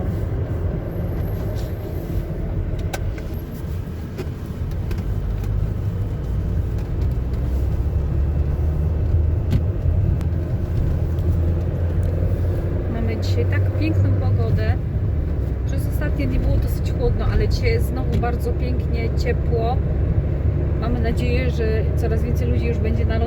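A car drives along a road with a steady low rumble of engine and tyres throughout, while people talk inside over the road noise.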